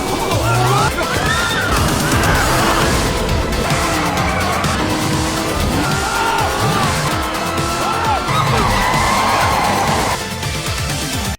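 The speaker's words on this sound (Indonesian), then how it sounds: "memacu taksinya dan menabrak mereka" A taxi speeds and crashes into people in a chase scene, with a roaring engine, squealing tires and harsh impacts blending into a loud, dense, continuous rush that drops off abruptly at the end.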